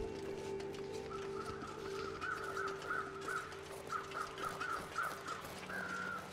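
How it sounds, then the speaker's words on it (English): Crows caw in The Long Dark, a wilderness survival video game: a run of distant, repeated raspy calls in irregular bursts over a low steady ambient drone, with no talking. "I heard some crows over here too."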